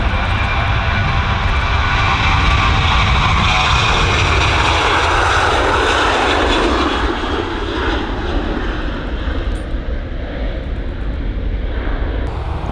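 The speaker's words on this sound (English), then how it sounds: "Good old Ryanair off to Palma." A Ryanair jet departs for Palma from East Midlands Airport at night, its engines a loud, sustained roar that swells and then slowly fades as it climbs away, with no voices.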